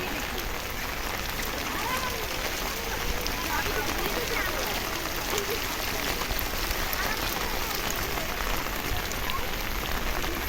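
Heavy rain falls across a flooded school grounds, an unbroken broadband hiss of drops hitting surfaces, steady and close throughout with no voices.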